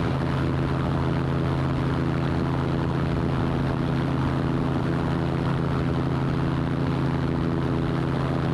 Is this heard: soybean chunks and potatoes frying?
no